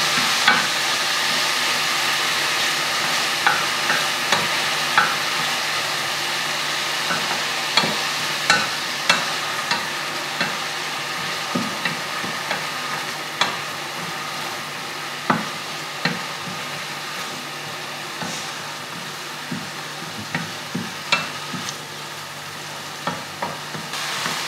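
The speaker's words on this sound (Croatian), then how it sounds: "Luk propržiti malo da se" Onions frying in a pan sizzle steadily while a utensil taps and scrapes the pan at a regular pace, giving repeated small clicks over a continuous hiss.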